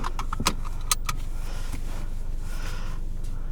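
Ford Mustang EcoBoost High Performance automatic, 2020, with exhaust in track mode: a loud, steady engine and exhaust drone from inside the car, continuous throughout with a couple of brief sharp clicks.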